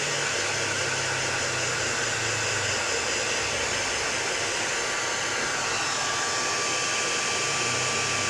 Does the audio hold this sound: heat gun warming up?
yes